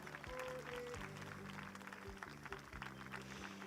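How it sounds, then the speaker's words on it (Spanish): Public applause for the queen at the Tāpati Rapa Nui festival, faint and distant clapping running under steady music with a low, repeating beat. "Fuerte aplauso, querido público,"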